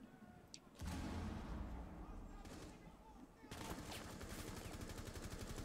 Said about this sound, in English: When you shoot the guy